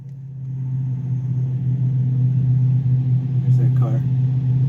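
Car passing near a garage workshop during a barn-find 1966 Dodge Dart restoration, a steady low engine rumble and tyre roar building slightly and holding across the stretch, fairly loud and close.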